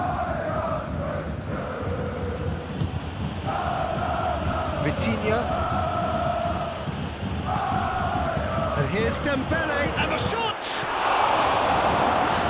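Football stadium crowd at a UEFA Champions League match roars and swells continuously around a near shot on goal, loud and dense throughout, with a commentator talking over it.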